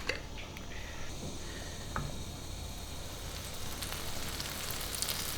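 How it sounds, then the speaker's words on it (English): Oiled bread sizzling on an unoiled griddle in a home kitchen, a steady even crackle and hiss running throughout at moderate level, with a few faint clicks and no talk. "And you're looking for that sort of sizzle."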